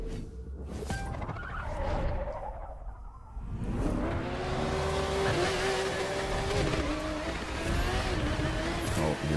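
A car drives in the video game The Crew 2, its engine droning and revving steadily, climbing in pitch as it accelerates, with some tire noise, loud and close throughout.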